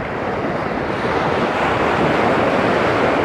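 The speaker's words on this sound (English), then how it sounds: "It's a big sandy bay, so definitely gets stirred up here with the tide coming in, and a big surf." Surf rolling onto a big sandy bay at a Thai beach in Rayong as the tide comes in, a loud, continuous wash of breaking waves with wind buffeting the microphone.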